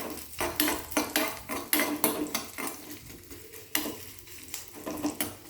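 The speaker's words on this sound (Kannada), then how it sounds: "ಈಗ ಅದೇ ಎಣ್ಣೆಗೆ ಸ್ವಲ್ಪ ಈರುಳ್ಳಿ ಹಾಕ್ಕೊಳ್ತೀನಿ" Onion frying in oil in a pan for egg fried rice, a steady close sizzle broken by frequent sharp clinks and scrapes of a utensil stirring against the pan, with no talking.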